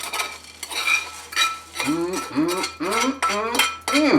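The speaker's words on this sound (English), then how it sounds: "What I'm going to add next, let's add this prosciutto." Crispy prosciutto goes into a pan with onions, garlic and Dijon mustard, with close, loud clinks and scrapes of a utensil against the pan and squeaky, sliding tones as the ingredients are stirred.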